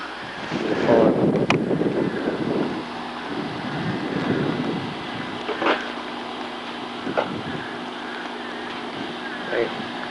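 Strong wind roars and buffets the microphone during the Hurricane Floyd flood, a steady rushing gust that is loudest early on and keeps blowing, with a few knocks and bumps.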